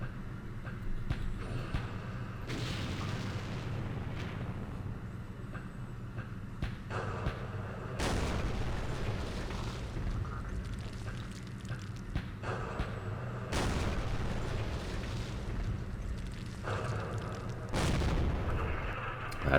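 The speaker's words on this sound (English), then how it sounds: "Just hitting some mortars there." Mortar fire in the Campaign Series Vietnam game, several dull booms spaced a few seconds apart over a low, continuous rumbling background.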